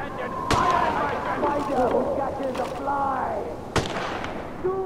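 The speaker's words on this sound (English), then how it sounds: "Who the heck is shooting?" Gunfire in Far Cry 4, two loud sharp shots a few seconds apart over game ambience, with someone talking between them.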